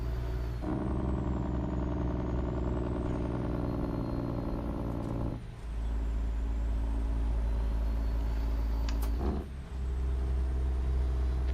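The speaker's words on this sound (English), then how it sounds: "The truck is not too loud, is it?" Truck engine in American Truck Simulator: a loud, continuous low drone with steady harmonics, two short dips where the note drops as if shifting gears.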